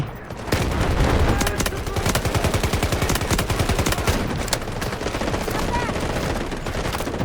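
Dense, sustained automatic gunfire from the shooter game Delta Force, loud and continuous for several seconds with rapid overlapping bursts, with speech faintly underneath.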